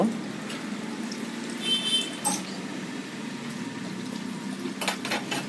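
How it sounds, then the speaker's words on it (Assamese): Steady low bubbling of pork boiling in a covered pot, a continuous watery churn with a few brief clinks, close and moderately loud. "অলপ সময় ঢাকি থোৱাৰ পিছত উতলিব ধৰিছে আমাৰ মাংস।"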